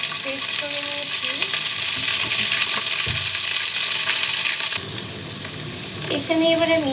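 Ginger garlic paste and spices sizzle loudly in hot oil for a Bengali prawn malai curry, a steady close frying hiss with stirring scrapes and a few clanks of the pan.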